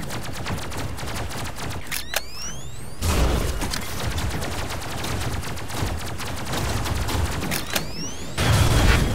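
Gunfire in the robot-building game Robocraft, a dense continuous stream of rapid crackling shots with a couple of rising whine sweeps, loud and sustained with brief changes in texture.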